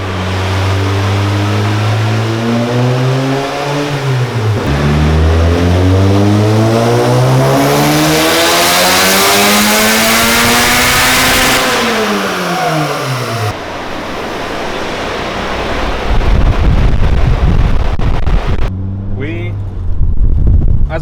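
A turbocharged Honda Civic engine runs a dyno pull, revving up and down in long swooping sweeps, loud and close. A sharp hissing surge follows before it rumbles back down toward idle.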